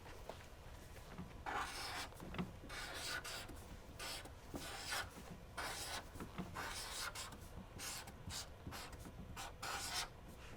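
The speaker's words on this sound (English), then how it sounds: "Let's write cupcake on our paper." Quiet scratching and rubbing of a pen moving across paper in short strokes, with no talking.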